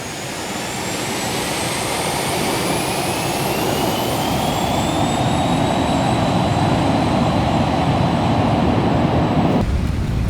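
Twin jet engines of an Aerobask Phenom 300 in X-Plane 11 roar loudly on the takeoff roll, a rising turbine whine climbing over a dense rumble that builds steadily throughout.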